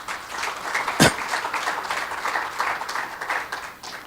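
A conference audience at a UN tourism forum on gastronomy in Africa, held at a hotel, breaks into moderate applause, steady clapping from a roomful of people with one sharp clap standing out near the start.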